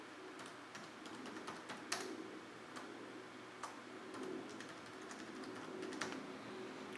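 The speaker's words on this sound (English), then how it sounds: "I'm going to type in the Wi-Fi access here." Quiet, irregular clicks of keys being typed on a computer keyboard while a Wi-Fi password is entered, heard close up over a low background hum.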